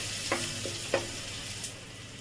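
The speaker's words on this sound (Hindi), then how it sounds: "सबको हम चला कर भून देंगे। टमाटर के साथ हमारा मसाला भी अच्छी तरीके से भून जाएगा" Tomato and spice masala stirred in a frying pan for an eggplant curry, a few soft scraping strokes of a spoon over a quiet sizzle, close and fairly faint.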